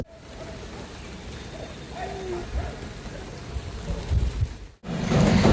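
Steady early-morning rain hisses throughout, with faint scattered knocks underneath; near the end it briefly drops out, then returns louder and closer.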